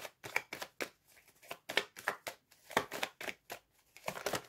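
Tarot cards are shuffled and drawn by hand, making a quick run of crisp, close riffling snaps and slaps in uneven bursts, with no talking.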